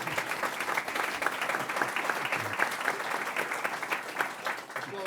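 An audience at a debate on Venezuela applauds a member of the Academia Paulista de Letras: dense, sustained clapping from a room full of people, steady throughout, with a little talk mixed in.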